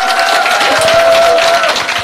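A seminar audience applauding: dense, steady clapping from a crowd fills the short stretch evenly and loudly, with a sustained tone running through it.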